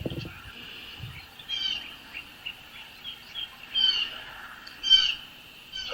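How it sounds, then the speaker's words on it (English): Birds singing outdoors in North Carolina under a clear sky: scattered high chirps and short trills come in bursts every second or so over a faint, steady background hiss, with no talking. "Birds."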